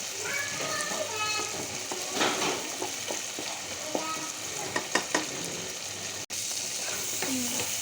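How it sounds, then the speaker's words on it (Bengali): A spoon scrapes and stirs spiced shrimp in a frying pan over a low sizzle as the water dries off, with occasional clanks and voices talking nearby. "শুকানো পর্যন্ত একটু লাড়াচাড়া করছি ভালো করে"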